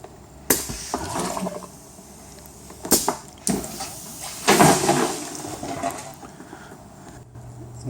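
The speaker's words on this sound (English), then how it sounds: "and then initiating the flush cycle" A prototype air-powered flush system on a Dometic toilet, with about a quart of water in the bowl: sharp bursts of air, then a rushing, splashing whoosh of water that fades, close and moderately loud.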